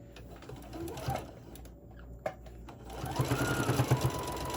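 A home sewing machine stitches a seam on a drawstring Santa bag in quick bursts, fairly faint, stopping briefly with a sharp click before running again more steadily.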